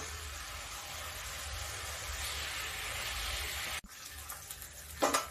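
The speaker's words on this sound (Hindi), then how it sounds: "देखिए थोड़ा धीमी आंच पे इस मसाले को देखिए तेल छोड़ने तक पका लेते हैं।" Garlic, ginger and green chilli masala paste frying in oil over low heat gives a steady close sizzle and hiss that cuts off abruptly, then resumes more faintly with a few clicks and a brief scrape.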